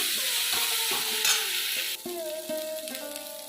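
Ginger paste and ground cumin, chili and turmeric being stirred and fried in a pan, a steady close sizzle with repeated scraping strokes of the spoon throughout.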